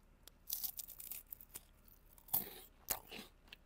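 Close, crisp crunching bites into a crunchy peanut pastry from Cebu, several sharp crackly bursts followed by quieter chewing, with no talking.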